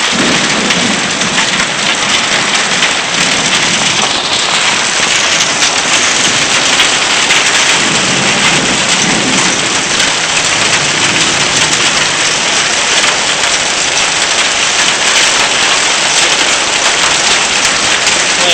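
Pea- to dime-sized hail pelts a car during a storm in McKinney, Texas, a dense, loud, continuous rattle of hard impacts on the body and roof.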